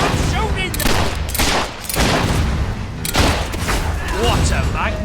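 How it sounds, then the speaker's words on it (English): Dense, loud gunfire fills a Fable 3 fantasy battle, with rapid volleys of rifle and pistol shots cracking almost continuously alongside shouted game dialogue and combat noise. "Stop him from shooting them!"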